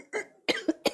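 Three separate coughs from a teacher in a Hindi science lesson: one short and muffled, then two sharper, louder bursts close together, heard alone with no talk over them.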